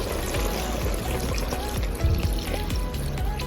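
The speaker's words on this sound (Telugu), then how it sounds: "ఎక్కువ మునిగేంత వరకు వాటర్ యాడ్ చేసుకోవాలి" Water being poured into a pot of head meat curry (talakaya kura), a steady close pouring and trickling sound with a brief heavier splash partway through.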